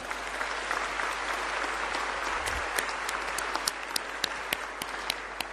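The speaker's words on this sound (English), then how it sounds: "let's give everyone who pitched a huge round of applause." Audience applause for the pitch semifinalists at the Global Entrepreneurship Summit, a dense, sustained roar of many clapping hands with a few sharper individual claps standing out toward the end.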